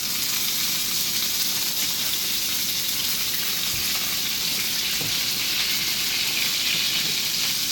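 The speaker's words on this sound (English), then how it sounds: "Little squirt of lemon juice right in the pan there." A squirt of lemon juice sizzling in a hot pan around Atlantic salmon fillets, a loud, even hiss of frying that continues without pause or speech.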